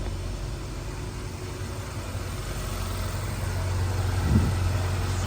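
A Porsche Panamera, newly fitted with replacement air struts, drives along with a steady low engine drone and broad road rumble that swells slightly toward the end.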